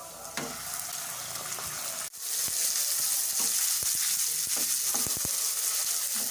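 Steady, loud sizzling of minced chicken frying in a hot pan, with a brief dip and then scattered clicks and taps of stirring.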